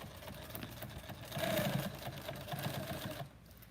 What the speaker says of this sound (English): What brand sewing machine is it?